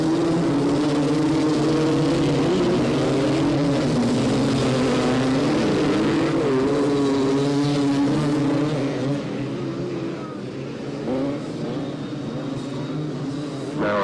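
Three-wheeler ATVs race around a dirt track at a 1985 AMA National event in Miami, their engines droning loudly and steadily with layered buzzing tones that rise and fall as machines pass.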